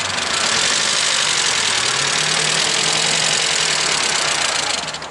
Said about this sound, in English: Does it sound like a misfire? No, that got fucking worse.